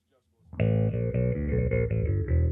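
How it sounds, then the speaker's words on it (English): A loud, sustained distorted guitar tone swells in after a brief quiet start, ringing thick and gritty with a few chord changes. "So that adds a little distortion to the overall effect."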